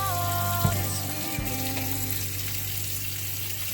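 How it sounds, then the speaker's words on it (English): Tap water runs steadily into a kitchen sink while hands are washed beneath it, a soft continuous splashing hiss with a couple of brief knocks near the start. "We're going to wash the hands."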